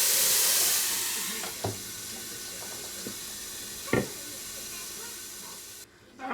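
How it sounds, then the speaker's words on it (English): Steam hisses steadily from the vent of a Ninja Speedi cooker while hamburgers cook, a soft close wash that fades slowly, with a few faint clicks and knocks. "I do have some steam coming out of the little vent here"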